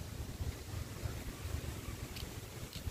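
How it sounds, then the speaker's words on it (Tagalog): Strong, fast wind blows across an outdoor spot among trees, a steady buffeting rush with gusty low-end thumps against the microphone, faint and continuous with no voices. "Mabilis po ang hangin dito."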